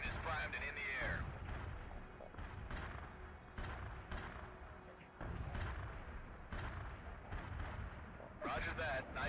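Heavy artillery barrage in the strategy game World in Conflict, a continuous roaring rumble of blasts and booming impacts that swells and dips, mixed with radio-style voices speaking over it.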